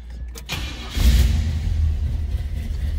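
A 1971 Chevrolet Monte Carlo cranks briefly, catches and settles into a deep, rumbling cold-start idle that runs steadily close by.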